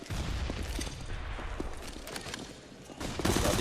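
Bursts of submachine gun fire from a UMP and a MAC-10 in Counter-Strike: Global Offensive, fairly faint rapid rattles spread through the round, with a louder flurry near the end.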